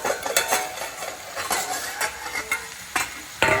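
Conch curry sautéing in a covered pan, a soft sizzle running underneath as a utensil scrapes and knocks against the metal in irregular strokes, with a few sharper clinks near the end.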